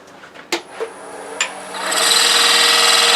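A bowl gouge taking a very light cut on wood spinning on a lathe, a few faint taps before a loud, steady hissing scrape builds up and holds to the end.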